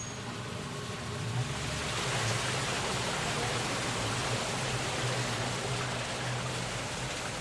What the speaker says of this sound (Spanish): sí se siente que está el agua corriendo